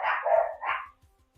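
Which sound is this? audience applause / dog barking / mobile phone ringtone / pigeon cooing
dog barking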